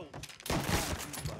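Gunfire in the video game Mafia III, a burst of shots cracking loudly and close after a brief lull, with a voice talking over the shooting.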